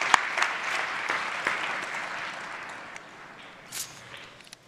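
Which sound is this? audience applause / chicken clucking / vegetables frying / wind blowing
audience applause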